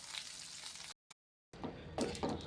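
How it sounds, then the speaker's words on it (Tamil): Pirandai stalks and tamarind sautéing in a pan until golden give a steady, close sizzle. It cuts out briefly and then returns with a few stirring scrapes. "அதோட புளியும் சேர்த்து நல்லா பொன்னிறமாக இப்போ வதக்க வேண்டியதான்"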